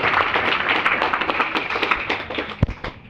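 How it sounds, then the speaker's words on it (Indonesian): A congregation claps for a nun celebrating forty years of religious life, a short, moderate patter of hands fading toward the end with a few sharper individual claps. "tepuk tangan untuk jubilaris"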